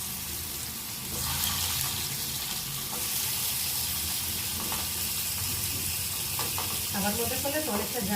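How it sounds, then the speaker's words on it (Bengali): Pumpkin pieces fry in oil on a hot tawa, giving a continuous close sizzle and hiss with a few light clinks of utensils toward the end. "কুমড়োগুলোকে ভেজে নেবো ফার্স্টে।"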